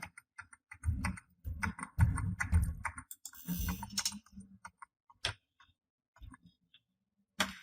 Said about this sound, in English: I'm going to hit F2 keys a couple of times